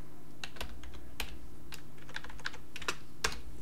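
A password is typed on a computer keyboard in short irregular clusters of crisp key clicks, close and fairly quiet over a low steady background hum.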